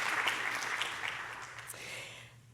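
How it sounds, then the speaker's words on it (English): An audience at an Alaska mariculture conference applauds, a steady wash of clapping that holds then gently fades over a couple of seconds, with no speech. "round of applause for James"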